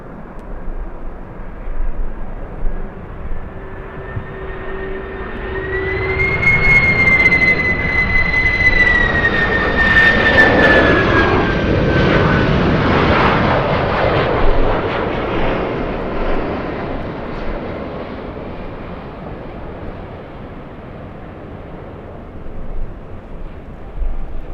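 A Lufthansa A380 jet lands at Los Angeles airport, its roar swelling into a broad rumble with a descending whine, then fading gradually into a distant drone.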